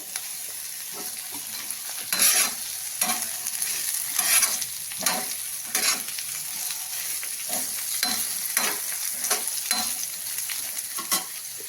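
Sliced capsicum, carrot and tomato fry in a pan, a steady broad sizzle broken by repeated scraping stirs at an uneven rhythm, close and fairly loud with no talking.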